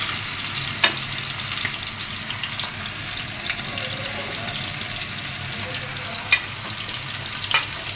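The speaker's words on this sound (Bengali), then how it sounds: "তো আমার ছেলে চিকেন ফ্রাই খাবে, ওকে ইয়াম্মি করে ফ্রাই করে দিচ্ছি" Chicken fries in a pan with a continuous, even sizzle and crackle, close by and moderately loud, broken by a few faint sharp pops and clicks.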